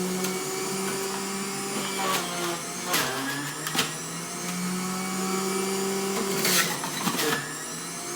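Electric juicer grinding apples, a steady motor whine with a low hum that shifts in pitch as pieces are pressed in, punctuated by brief crunching bursts, close up and without talk.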